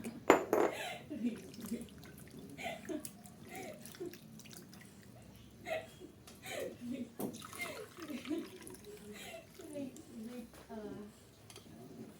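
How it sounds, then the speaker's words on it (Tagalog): Water dripping and sloshing as chicken liver is rinsed in a bowl, soft splashes and trickles close by, with a person talking over it. "babanlawan din po natin siya ng tubig"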